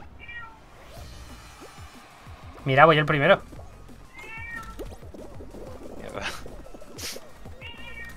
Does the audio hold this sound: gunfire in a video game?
no